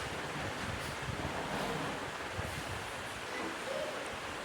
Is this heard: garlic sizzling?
yes